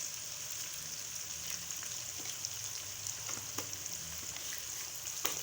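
Whole cumin seeds sizzle in hot oil while an aloo palak sabzi is being cooked. The frying hiss is steady and close, with scattered small pops and crackles and no talk.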